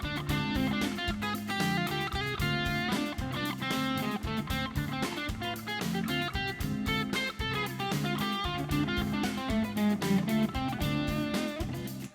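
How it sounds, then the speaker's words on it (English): Electric guitar with a driven, effected tone playing busy, continuous blues-scale lines, steady and fairly loud with no talking. "but if you like the sound of the blues scale"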